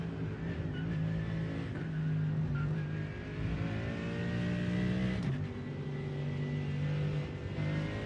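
A GT3 race car engine on throttle at Spa in the iRacing video game, a loud sustained harmonic drone that holds steady, briefly dips near the middle, then climbs again as it revs on.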